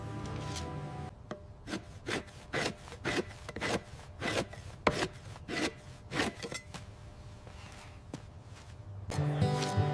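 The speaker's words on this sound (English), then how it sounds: "See how the blade curls the fat away, revealing the clean, tight fiber beneath." A blade scrapes fat from donkey hide in a leather processing factory, a steady rhythm of about a dozen rasping strokes in a row, close and clear with no talk.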